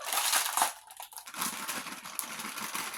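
Crinkling, crunching plastic packaging of a cake mix being worked open, a steady rustle with a brief pause partway through, close to the microphone.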